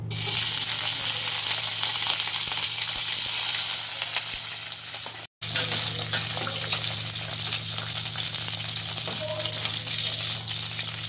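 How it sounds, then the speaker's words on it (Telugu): Green chillies frying in hot oil in a pan for beerakaya pachadi, a steady broad sizzle running throughout with a brief cut midway. "ఫస్ట్ మిర్చి వేయించుకుందాం ఆయిల్లో।"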